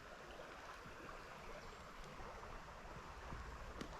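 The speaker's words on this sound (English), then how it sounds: "It's pretty shallow and the water's clear, but we've got some nice current here." Water in a shallow, clear spring-fed creek flows as a steady current, giving a constant soft rushing wash that stays even throughout, with no voices.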